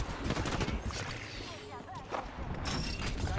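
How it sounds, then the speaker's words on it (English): Bursts of gunfire crack out in an Apex Legends match, several quick shots and rattling sprays mixed with game mechanics and movement noise, under players talking. "I'm getting shot in my back"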